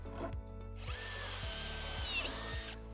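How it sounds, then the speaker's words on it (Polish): Power drill driving a screw into wooden terrace deck boards, a steady close whirring that rises slightly in pitch and then stops, with no talk. "dzięki temu wkręt będzie wkręcony na odpowiednią głębokość"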